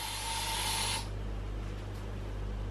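An aerosol spray can hisses in a short, steady burst for about a second indoors against a low electrical hum, then cuts off, leaving faint room noise.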